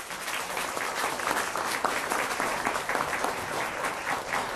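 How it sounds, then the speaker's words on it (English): An audience claps in a dense, continuous round of applause for a high school quiz bowl team at a Benton versus Russellville match, loud and sustained with no talk over it. "Give them a big round of applause."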